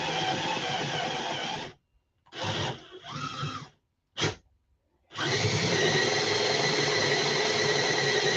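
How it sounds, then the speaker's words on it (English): A handheld power drill bores a 1 3/8 inch hole through scrap wood, whining loudly in several bursts with short pauses between, then running steadily to the end. "Oh, we got to drill a hole."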